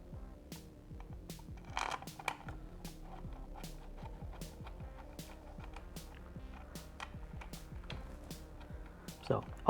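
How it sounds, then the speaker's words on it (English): Two 8mm bolts being refitted to hold a cover on a Honda Grom MSX125 motorcycle during a crash bar install: quiet, close ratcheting clicks and small metallic creaks repeating in quick succession. "we should be able to reinstall the two 8mm bolts that hold the cover in place"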